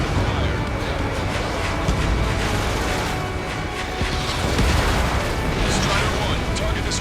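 A destroyed target explodes in the Ace Combat 7 combat flight game, a dense, sustained roar of blast and rumble that fills the whole clip.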